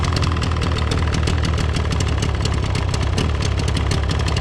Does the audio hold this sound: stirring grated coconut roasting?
no